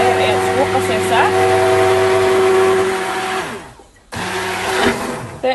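Countertop blender whirring steadily as it mixes natural homemade soap ingredients, a loud continuous motor drone that cuts out briefly near the end before starting up again.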